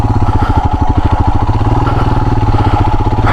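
Royal Enfield Himalayan motorcycle engine running up close on a ride, with a steady, throaty, rapid thumping beat that holds evenly throughout with no voices.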